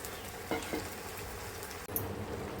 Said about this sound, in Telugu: ఇప్పుడు ఉల్లిపాయ టమాటా పేస్ట్ వేసేస్తున్నాను.